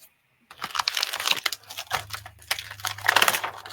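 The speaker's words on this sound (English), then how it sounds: "So I'll just grab an envelope while I'm here" An envelope being picked up and handled while making a card, with close crinkling, rustling paper and small taps after a brief silence.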